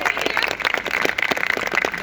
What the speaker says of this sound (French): On peut applaudir Guy très très fort.